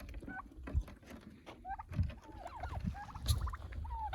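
Jersey Buff and Royal Palm turkeys produce soft, warbling gobbles and chirps close by, repeated over a low rustling, pattering background.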